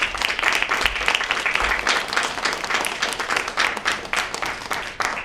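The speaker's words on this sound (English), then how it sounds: "let's give all those folks a round of applause" Steady applause from an audience at a swearing-in ceremony, clapping for parents and support people; dense, sustained clapping fills the whole stretch with fairly close, even intensity.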